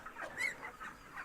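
Chickens cluck softly at a poultry farm, a few faint, quick calls in a quiet space with no voices.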